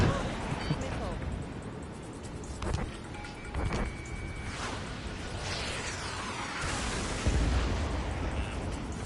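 Missile explosions and jet roar in Ace Combat 7 aerial combat, a steady engine rush broken by several sharp whooshing blasts and booms, while a radio-style voice calls out warnings over the action.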